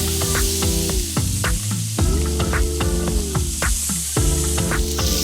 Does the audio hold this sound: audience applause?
no